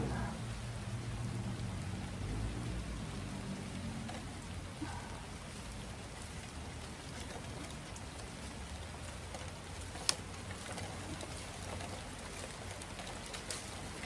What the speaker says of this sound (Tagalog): O, kasi yan, ulan na, mabasa na.